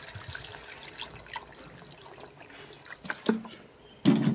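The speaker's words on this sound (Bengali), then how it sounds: "তো দিয়ে দিলাম জল।" Water is poured into a pan of spicy mutton curry cooking in a kadai, a soft trickling splash building over a few seconds and ending in a brief louder gush, with no talk.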